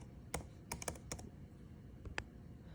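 Faint clicks of computer keyboard typing, a handful of separate taps spread unevenly across a few seconds over a low background hum.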